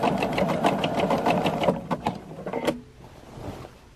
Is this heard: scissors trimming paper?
no